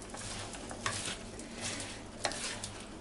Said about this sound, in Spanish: Voy a mezclar